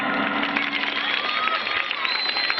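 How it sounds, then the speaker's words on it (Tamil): Steady applause from a group of school students, continuous clapping throughout with a faint murmur of voices underneath. "கைத்தட்டுங்கப்பா."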